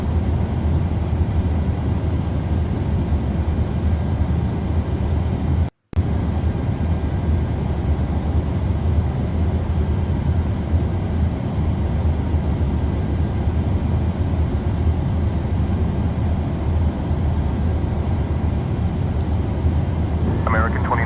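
An airliner cabin in Microsoft Flight Simulator 2020 during heavy turbulence, a steady loud roar of engines and rushing air that continues without a break except for one brief cutout.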